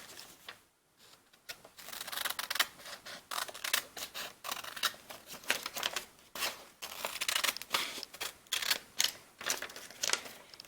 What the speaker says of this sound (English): take the scissors and cut it off. Snip, snip, snip, snip.